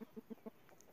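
Plump hens raised on a rural property in Ceará, Brazil, give four quick, soft clucks in an even rhythm, faint and close, then go quiet.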